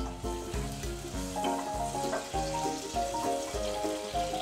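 Tomatoes sizzle in hot oil for a bottle gourd and chana dal curry, a loud, continuous frying hiss with rhythmic stirring pulses about twice a second, close and alone.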